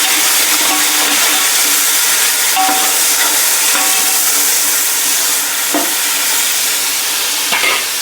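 Tomatoes fry in a pan with browned onions for chicken pulao, giving a loud, steady sizzle and hiss close up, with occasional scrapes and stirring clicks and no voices.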